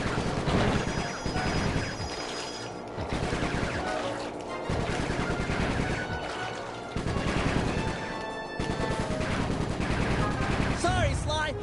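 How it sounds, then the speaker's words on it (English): Bursts of gunfire in the Sly 3 video game, dense and loud over a busy game soundtrack with music, repeating in several rapid volleys across the clip. "shooting, Bentley"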